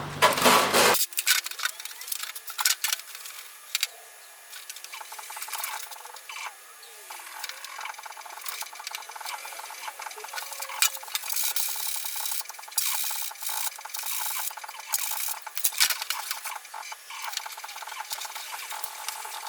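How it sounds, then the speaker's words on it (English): Coarse 80 grit sandpaper scrapes across a fiberglass fender flare by hand in uneven strokes, a dry, rasping rub that starts with a loud burst and continues in close, irregular passes. "I'm going to start with the 80 grit just so I can move through a lot of material pretty quick"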